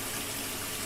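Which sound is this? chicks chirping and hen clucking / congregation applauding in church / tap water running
tap water running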